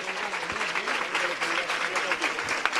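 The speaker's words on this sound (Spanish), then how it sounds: "Los primeros aplausos." Crowd applause breaks out in the street as the Santo Cristo Cautivo image is raised during a Holy Monday procession, the clapping mixed with murmuring voices and nearby crowd sounds.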